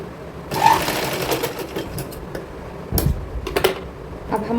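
A sewing machine runs in quick bursts while stitching tucks on the back piece of a blouse, its rapid mechanical whir starting, pausing and restarting close by, with no talk.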